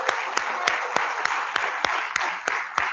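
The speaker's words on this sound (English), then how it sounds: "Let's give a round of applause to both Rick and Aldea." Audience applause at a birding presentation on the great blue heron, given for Rick and Aldea Coffee, who supplied the coffee service; a dense wash of hand clapping with a few sharper claps standing out, steady and fairly close for about three seconds.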